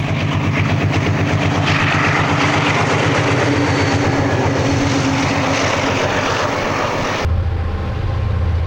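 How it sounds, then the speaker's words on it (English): An Erie Lackawanna RS2 diesel locomotive hauling a commuter train at Denville makes a loud, continuous rumble of engine and rolling wheels, which cuts off abruptly near the end into quieter lower noise. No one speaks. "An RS2 on a commuter train at Denville."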